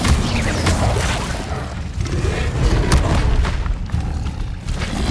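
Incendio fire spell cast in the game Hogwarts Legacy, a dense roaring burst of flame with deep booming rumble that swells and stays loud throughout, with a brief sharp crackle partway through.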